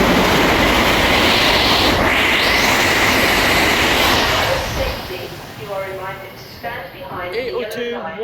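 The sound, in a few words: Great Western Railway train passing through Slough station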